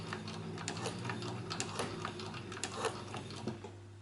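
Cowboy CB 6900 industrial sewing machine stitching through a heavy duty strap, a steady close mechanical clatter with rapid repeated needle strikes over a constant low motor hum, with no talking.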